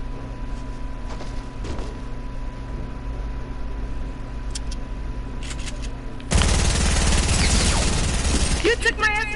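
Submachine-gun fire in a video game, a loud dense burst that erupts partway through after quieter game sounds and scattered clicks, continuing to the end.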